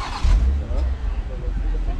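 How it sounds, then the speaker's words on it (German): An INEOS Grenadier with a BMW straight-six engine cranks and fires up, giving a short low rumble that surges near the start and then settles into a steady idle, with a voice over it. "und der Motor startet"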